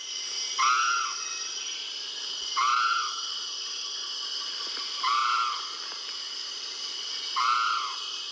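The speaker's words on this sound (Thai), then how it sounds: "ยกตัวอย่างนกปากกบพันชวาก็จะมีเสียงร้องที่เป็นเอกลักษณ์ของตัวเอง" Javan frogmouth, a nocturnal bird, calling four times at steady intervals of about two seconds, each a clear descending whistled note, fairly close and alone over a steady insect background.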